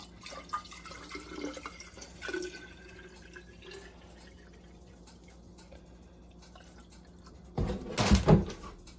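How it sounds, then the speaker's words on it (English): Water running and dripping into a nearly empty tomato sauce bottle in a home kitchen, a short splashing burst near the end after quiet handling noises. "I'm going to add a little bit of water into the bottle because there's always a little bit left."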